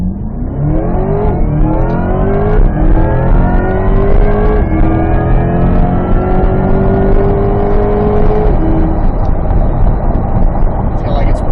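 A 2025 Chevrolet Corvette E-Ray accelerates hard with traction control off. Its engine note climbs steadily through a long, loud, close pull, and the rising tone holds for most of the run before easing near the end.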